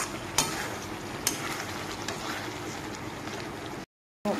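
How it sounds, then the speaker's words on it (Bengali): Fried pointed gourd pieces stirred into spiced masala in a pan, a steady sizzle with a couple of sharp spoon scrapes, cutting to a brief silence before resuming. "তো এখন আমি দিয়ে দিব ভেজে রাখা পটলগুলো। পটলের সাথে ভালোভাবে আমি মশলাটাকে আর একটু কষাবো।"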